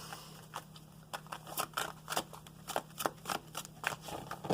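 A deck of tarot cards is shuffled by hand, giving repeated riffling and slapping bursts in an uneven rhythm, close and fairly clear, with no talking.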